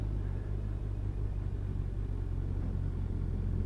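A car drives past on an open road on a clear late-autumn day, heard as a steady low engine rumble that stays loud and continuous throughout, with no voices.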